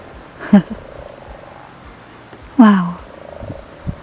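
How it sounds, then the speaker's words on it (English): Frogs croaking at night in a remote outdoor setting under the stars, two separate loud throaty croaks a couple of seconds apart over a quiet background with faint distant calls. "It's the frogs. There's loads of them and they're all croaking."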